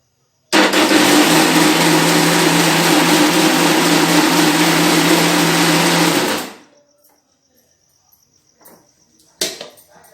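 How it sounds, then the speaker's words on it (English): An electric mixer whirring in a mixing pan of mushroom cake batter, a loud steady high-pitched motor drone for about six seconds that then winds down and stops, followed by quiet and a couple of faint knocks. "Now I have mixed all the ingredients into this mixing pan and I will start it and mix it."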